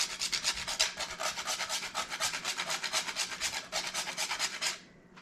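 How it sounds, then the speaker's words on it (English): Fresh nutmeg is grated by hand over banana bread batter, giving a quick run of close, rhythmic rasping strokes that ends abruptly. "on top of this, I'm gonna grate some fresh nutmeg."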